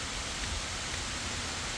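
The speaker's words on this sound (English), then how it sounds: "I feel like it's raining on my head still" Steady, dense hiss of rain falling outdoors, a constant broadband wash close around with no breaks and no talking.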